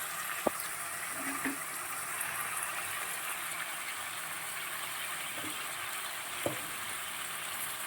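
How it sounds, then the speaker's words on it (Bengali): Crab frying in a pan with potato, onion, garlic paste, green chillies and spice pastes, a steady close sizzle with a few soft clicks and stirring knocks. "দেখো মশলাটা প্রায় কষানো হয়ে গেছে"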